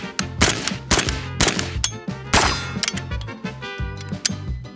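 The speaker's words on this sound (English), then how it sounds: "Should we just shoot it with the dust cover open for no reason?" Rapid repeated shots from a PSA 5.56 Krink rifle fired with the dust cover open at a target range, loud sharp cracks in quick bursts with a clanging metallic ring and short gaps between strings.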